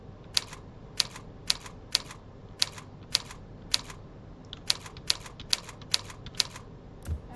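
Individual keystrokes on a computer keyboard during a typing lesson click out sharply and evenly, about a dozen separate taps at a steady, deliberate pace, close and isolated against quiet room tone.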